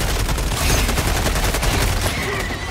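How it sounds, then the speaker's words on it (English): Sustained automatic machine-gun fire in a co-op shooter video game, a dense, continuous rattle of rapid shots at steady loudness throughout, with no talking over it. "Machine gun!"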